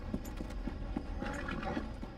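A horse clip-clopping in Red Dead Redemption 2, steady evenly spaced hoofbeats at a walking pace, soft and moderately close over low ambient rumble.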